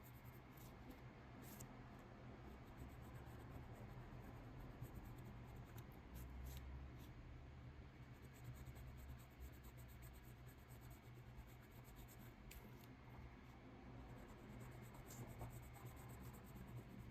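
A pencil scratches continuously and softly across paper while a drawing of the Holy Family's mantle is shaded, a faint, close, even rustle with no speech.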